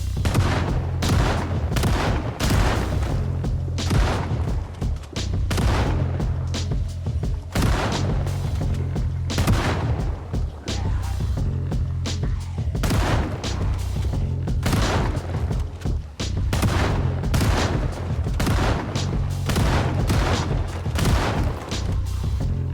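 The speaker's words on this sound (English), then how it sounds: "he grabbed a shotgun and a bunch of shells and started blasting away" Shotgun blasts fired at zombies in the survival video game Project Zomboid: a rapid, irregular series of loud booming shots, a dozen or more over twenty seconds with brief pauses between bursts, heard alone without talk.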